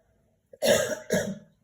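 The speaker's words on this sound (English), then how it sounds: "Let me just clear my throat, okay." A person clears their throat twice in quick succession, two close, harsh rasping bursts with a tiny click just before them, heard alone in a quiet room.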